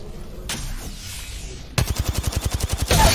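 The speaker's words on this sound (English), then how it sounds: "Getting shot at." Rapid gunfire in the video game Apex Legends: a sharp burst, then a steady automatic stream of close, loud shots in a fast even rhythm, with no talk over it.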